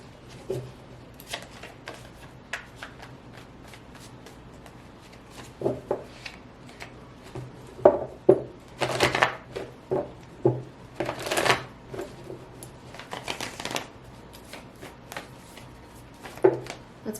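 Tarot cards shuffled by hand in a quiet room, a series of soft riffling and tapping bursts that come closer together and grow louder toward the middle, with no talking.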